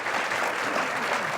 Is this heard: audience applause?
yes